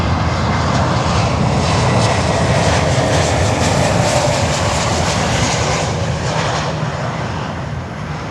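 A Frontier airliner arriving from Washington, D.C. roars past at Miami airport, a loud, steady broadband engine rumble that holds strong for the whole stretch and eases only slightly at the end.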